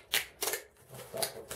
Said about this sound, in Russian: Сейчас скотчем замотаем.